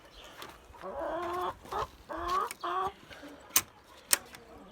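Nine hens and two roosters cluck in short bursts nearby on a chicken farm, with a few sharp clicks in between; fairly quiet, no talking.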